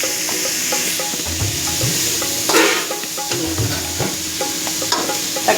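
Tomatoes sautéing in a pan for okra thokku, a steady close sizzle with a spoon scraping and stirring at irregular intervals and no talking.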